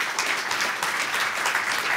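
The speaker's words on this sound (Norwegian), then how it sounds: "Jeg synes dere skal gi han Kristian en applaus." An audience applauds for Kristian at an annual meeting seminar, a steady wash of clapping hands throughout, fairly close and alone.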